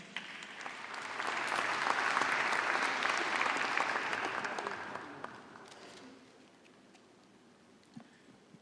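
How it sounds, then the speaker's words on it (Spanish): An audience at the opening of the Congreso Futuro 2026 event in the Senate applauds. The clapping swells to a dense, steady ovation, then thins to a few scattered claps and quiet. "Un aplauso para él, por favor."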